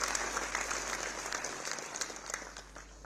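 Audience applause at a gathering of pharmaceutical industry dignitaries addressed by an industry minister, a soft, distant wash of clapping that thins out toward the end.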